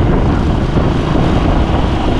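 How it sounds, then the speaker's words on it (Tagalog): Strong wind roars over the microphone during a ride as a passenger on a tour in the Philippines, a loud, continuous buffeting rush with no break. "Mahangin siya in fairness ha."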